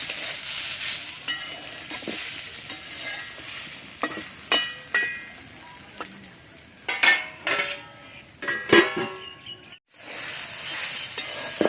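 Snake gourd and coconut curry frying in a covered pan, a constant sizzle broken by sharp clinks and scrapes of stirring, a brief hush, then the sizzle returning loudly, with no talking.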